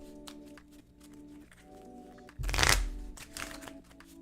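A Pokémon trading card deck being shuffled, a short close riffle burst after a quiet stretch, followed by a few lighter card rustles.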